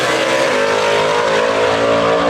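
A gasser drag race car called Leroy, running in B and A gas classes at Mooresville Dragway, roars at full power down the strip in one loud, continuous engine howl whose pitch climbs through a gear change.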